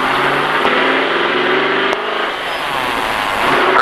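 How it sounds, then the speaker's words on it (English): A car pulls away onto the Daytona Speedway track, its engine note steady and loud throughout with a brief shift near the middle, close to the microphone with no talk over it. "Give it some gas. All right, let that clutch out."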